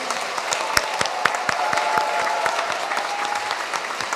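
A congregation applauds at a Catholic mass for small-community volunteers in Korea's Suji district: steady, dense indoor clapping with crisp individual claps standing out, sustained for several seconds.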